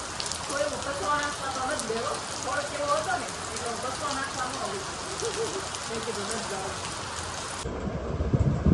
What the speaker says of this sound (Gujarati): કેટલો વરસાદ આવ્યો